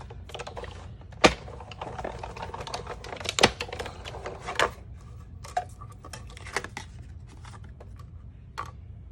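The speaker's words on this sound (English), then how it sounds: "we're going to run that through and cut out 4 of the scalloped shapes" A die-cutting machine runs paper through to cut four scalloped shapes, giving a steady mechanical whir with several sharp clacks and ticks spread across the pass, close and fairly quiet, with no voices.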